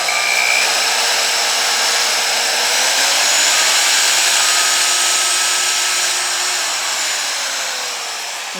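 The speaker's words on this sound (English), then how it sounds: "this Milwaukee router works with the speed control" A Milwaukee router motor runs loud and steady at high speed with a constant whine, its pitch shifting slightly as the speed control is adjusted, then easing off toward the end.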